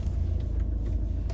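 A Mahindra XUV500 W10 SUV rolling in with a steady low engine rumble, close and continuous for a moment, no voices.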